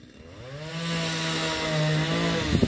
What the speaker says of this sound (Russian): пилит сосед дрова свои